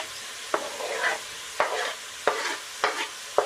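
Garlic, ginger, chopped tomato, carrot and parsnip being stirred in a pot, with four distinct scraping strokes at a steady pace, each followed by a soft sizzle, close and moderately quiet.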